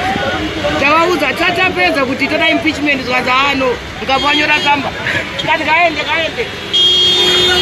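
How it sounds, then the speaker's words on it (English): Car horns toot repeatedly in celebration in Harare, Zimbabwe, amid a lively crowd, voices babbling and shouting over the honks and traffic noise. "There are hoots going on all over. People are hooting all over, ecstatic and happy."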